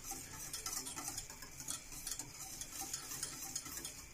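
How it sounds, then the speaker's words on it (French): A spoon scrapes and stirs a thickening white sauce made from fish stock and bound with roux, giving a continuous soft, rhythmic scraping with light bubbling close by. "Il faut remuer et voir la consistance."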